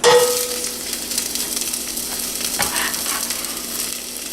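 Garlic sizzles in olive oil at the bottom of a soup pot for a leftover turkey barley soup, a steady close crackling hiss that flares loud at the start, then settles, with a brief clatter partway through.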